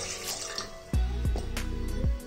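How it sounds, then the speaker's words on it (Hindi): Water from a glass is poured into the base of an idli stand for steaming dhokla, a few splashy glugging pours landing in a metal pot up close. "अब हम इसमें पानी डाल देंगे 2 गिलास।"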